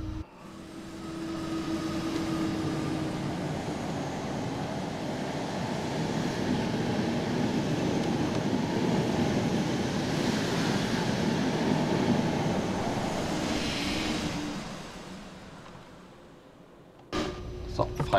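Two BR 101 electric locomotives hauling a seven-car Intercity train in a train simulator game, producing a steady loud rumbling drone that swells and fades before dying away near the end, followed by a few clunks.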